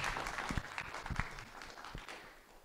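Faint, fairly distant audience applause in a conference hall, a steady patter of many hands with a few louder claps near the front, fading slightly toward the end.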